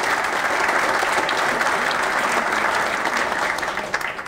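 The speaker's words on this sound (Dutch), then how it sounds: "Ik wil graag een applaus voor deze commissie." A hall full of people at RKSV Blauw Zwart's 100th anniversary in Wassenaar applauds the anniversary committee, a thick, even wash of clapping that holds strong and then thins out slightly toward the end.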